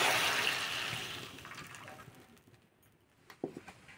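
Boiled water poured from a pot onto a plate, a steady gushing splash that tapers off into a trickle, ending in a few faint clinks, close by.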